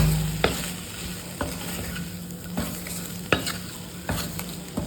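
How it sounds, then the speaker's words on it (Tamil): Boiled chickpeas and samba wheat rava being sautéed in a pan: a steady low sizzle broken by sharp scraping stirs every second or so, close and moderately loud with no talking. "இதையும் ஒரு வதக்கிடுவோம்."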